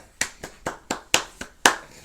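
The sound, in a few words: audience applause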